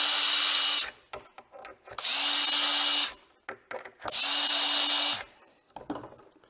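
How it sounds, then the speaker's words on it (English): A power drill bores pilot holes in 1/2 inch plywood for an RV jackknife sofa conversion, running in three loud, close bursts of about a second each, separated by quiet handling clicks. "So first do the pilot holes."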